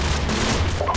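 Machine gun fire in Call of Duty 4: Modern Warfare, a dense, continuous rattle of automatic gunfire filling the whole second at steady loudness.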